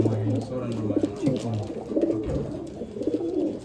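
Pet pigeon pairs kept for sale in Bangalore coo close by in low, repeated throaty phrases with short gaps between them.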